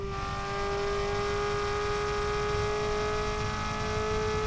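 Race car engine in the Revhead video game held high near the red line in fourth gear, a steady loud buzzing drone with a strong sustained tone and no breaks.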